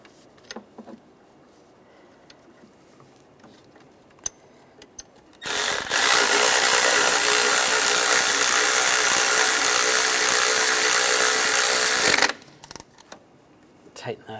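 A ratchet tightens a bracket bolt on a 1996-2002 Toyota 4Runner intake during fuel injector work: a few quiet clicks, then a loud, continuous whirring run of about seven seconds that cuts off abruptly.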